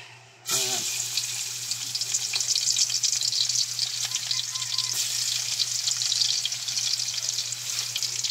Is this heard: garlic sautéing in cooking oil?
yes